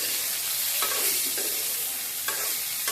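Vegetables frying in a pan with salt and turmeric, a steady close sizzle broken by a few sharp scraping stirs of a spatula against the pan.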